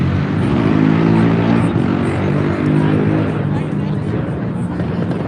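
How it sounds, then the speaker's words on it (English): Vehicles from a car show rolling past on a Denver street at a rally, including a four-wheeler, giving a loud steady engine drone close by with a rising and falling hum. "Sorry, gotta wait for the car show to go by."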